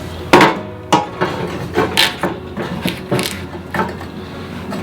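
Tile being handled and snapped on an Ishii Red Turbo Jet push tile cutter with spring-loaded breaking plates, a series of sharp knocks and clacks, loud and close, spaced irregularly over a few seconds.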